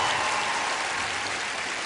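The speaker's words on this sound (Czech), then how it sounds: "Prosil bych extrémní potlesk" Audience applause fills an ice show arena, a dense, steady wash of clapping sustained throughout without a break.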